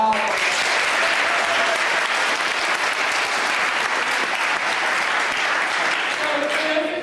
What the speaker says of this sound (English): A huge round of applause for all of us.